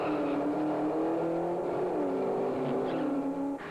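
Drag racing cars on a street reach about 120 miles an hour, their engines holding a loud, steady high-pitched drone that shifts slightly in pitch as they pass, with no talking.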